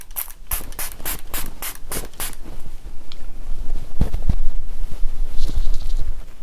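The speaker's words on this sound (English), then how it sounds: "I'm just going to spray this and then I'll be done" Repeated short hissing sprays of glitter setting spray in quick bursts, followed by rustling and handling noises close to the microphone.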